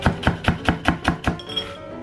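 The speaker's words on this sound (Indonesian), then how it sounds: "Kita iris-iris dulu sayurannya, seperti kol. Kemudian wortel dan juga daun bawang." A knife slices through cabbage, carrot and scallions on a cutting board, about seven evenly spaced close chops in a steady rhythm before stopping.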